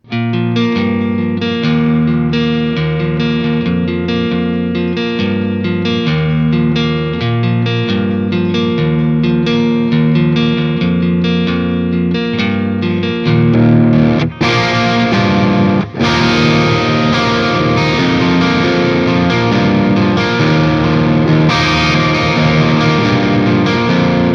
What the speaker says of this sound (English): Today we are having a look at the Synergy Morgan AC module